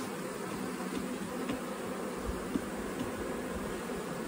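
Honeybees drone around their hive in a dense, continuous buzz, with individual insects passing close now and then over the steady swarm hum; no voices.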